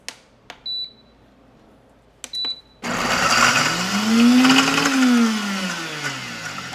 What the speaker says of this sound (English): my blender does it on its own